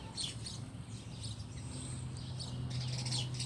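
Small wild birds chirping and tweeting around a backyard bird feeder, a steady scatter of faint high calls over a low outdoor hum, with no voices.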